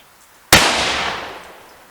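A single rifle gunshot fired outdoors, one sharp loud crack followed by a decaying echo lasting about a second, with no talk.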